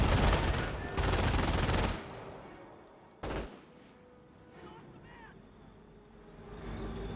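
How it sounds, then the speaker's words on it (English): Machine gun fire in a Company of Heroes battle, loud dense broadband bursts for about two seconds, then a single sharp burst, then quieter battlefield rumble with someone talking over it. "They get some good suppression there thanks to the base MG."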